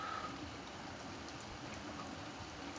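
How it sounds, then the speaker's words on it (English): Torrential rain pours down steadily, a dense, even hiss of heavy drops with no voices over it. "Look at all this rain."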